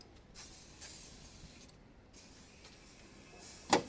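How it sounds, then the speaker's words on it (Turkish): SMX waterless engine cleaner is sprayed over a car engine in a few short aerosol hisses, moderately close, with quiet pauses between bursts and a sharp knock near the end. "Bakın buradan yarısına kadar sıkıyorum"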